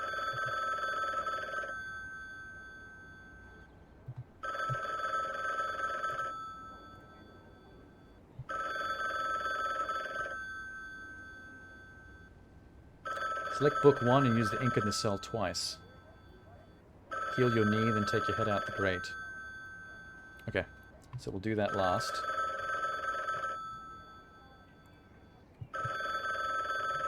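Telephone bell ringing in repeated bursts of about two seconds with short gaps, loud and near, with someone talking over some of the rings in a game-playing session.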